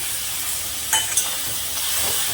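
Chicken with tomato cooking Bengali-style in a pan, a continuous gentle sizzle with a few brief utensil clinks and stirring scrapes partway through, no talking.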